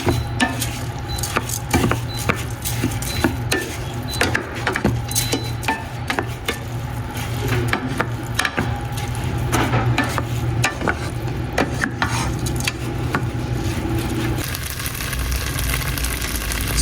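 Steady scraping and clinking of a spoon stirring a mixture in a pot, continuous and close, over a low hum with no talking.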